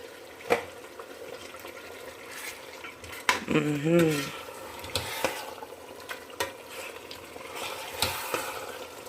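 Meat and shaki (tripe) with stalk frying in a pot of Nigerian fried egusi soup, a low steady sizzle with occasional close spoon scrapes and clinks against the pot, plus a short patch of faint tonal sound midway.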